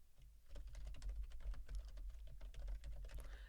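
Fingers typing on a computer keyboard, a quick, uneven run of soft clicking keystrokes up close, quiet and with no voices.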